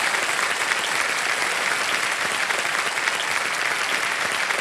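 Sustained, dense applause from a studio audience on a television quiz show, loud and even throughout with no break or voices over it.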